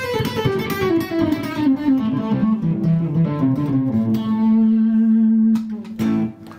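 Distorted electric guitar runs a blues-scale phrase, bending and sliding notes before settling on a long sustained tone, loud and alone with a touch of effects and reverb.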